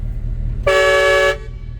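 A single loud, sustained air horn blast sounds for well under a second over a low idling rumble, then cuts off cleanly.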